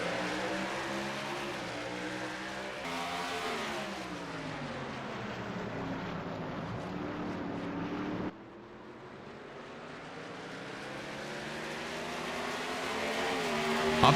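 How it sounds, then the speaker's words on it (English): Xfinity Series race cars pull away from the green flag at the Pirelli Grand Prix in Brazil, a pack of engines droning and rising through the gears, with one clear shift before the roar builds again, heard from a distance. "Up through the gears they go into this right-hander"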